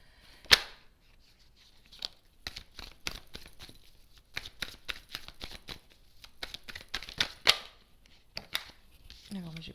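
Tarot cards being laid one over another on a table make soft papery taps, slides and snaps, scattered irregularly and close by, with a few sharper flicks.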